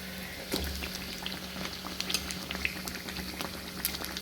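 Pathiri flatbread frying in hot oil gives a steady, soft bubbling sizzle with small crackles, fairly quiet and close, with no talking.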